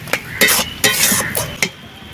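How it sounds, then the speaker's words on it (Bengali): A spatula stirs banana flower curry in a pan over a village cooking fire, making four or five quick, loud scraping strokes over a light sizzle. "এইভাবে খুন্তি দিয়ে ঘেঁটে দিতে হবে একটু।"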